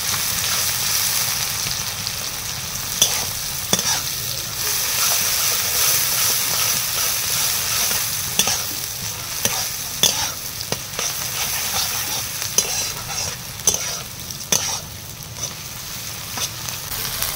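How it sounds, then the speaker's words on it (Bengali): Finely chopped onions fry in hot oil, giving a loud, steady sizzle close by. A utensil scrapes and clinks against the pan at irregular intervals while it is stirred, and no one speaks. "পেঁয়াজটা দিয়ে একটু ভেজে নেব লাল লাল করে"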